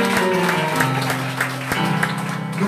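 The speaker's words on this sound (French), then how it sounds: "beaucoup de applaudissements pour 46 ans l'église là" Applause at a church celebration marking the church's 46th anniversary, a sustained dense clapping from a congregation that holds steady throughout, loud and close, with some tonal crowd sound mixed in.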